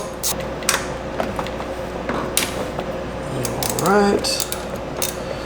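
A ratchet wrench working on 10mm bracket bolts of a 2006-2011 Honda Civic, with scattered clicks and metallic clatter, a short burst of ratcheting and a faint creak near the end.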